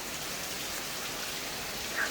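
Heavy rain pours down outside late at night as a dense, steady hiss that holds evenly for the whole short stretch, with no voices.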